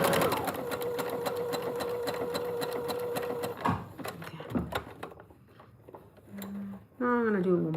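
A sewing machine runs a zigzag stitch at a steady, close whir for several seconds, then stops, followed by clunks of adjusting the fabric and a voice speaking near the end.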